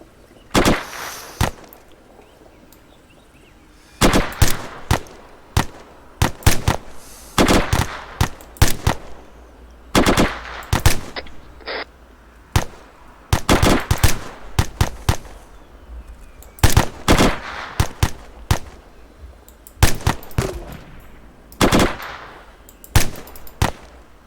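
Machine gun fire in the ArmA 3 military video game during a platoon maneuver, loud repeated bursts of rapid shots with short pauses between, some volleys near and sharp, others slightly softer.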